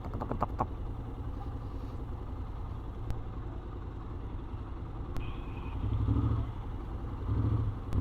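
A Honda X-ADV 750 motorcycle with a clicking fault idles nearby, its low steady engine drone broken by faint ticks, a few sharp clicks and short surges in revs.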